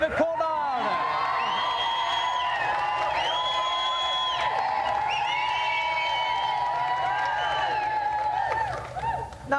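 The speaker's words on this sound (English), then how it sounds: "Another round of applause for our special guest, David Coulthard." A television studio audience cheers and claps for a special guest, David Coulthard, the crowd noise running steadily beneath tonal game-show music and effects.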